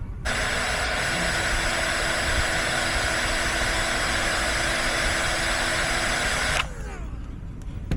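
A Hobao Hyper7 .28 nitro RTR buggy engine runs steadily during break-in, a loud, constant high-pitched whine that holds for several seconds, then cuts off abruptly near the end.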